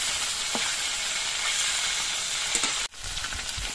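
Fresh Ganges aar fish fry in a pan at moderate heat, a constant near sizzle and hiss with occasional soft clicks, briefly cutting out before resuming for the final moments.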